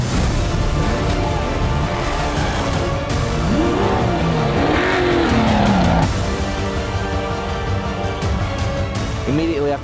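Off-road race trucks at the SCORE San Felipe 250 desert race, loud roaring engines and revving throughout, with tire noise and a voice talking underneath at times.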